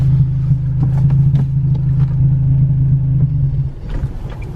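A manual-transmission car starting off from rest, a steady low engine hum with light revving and small knocks, then a sudden drop in engine sound near the end as the engine stalls or bogs.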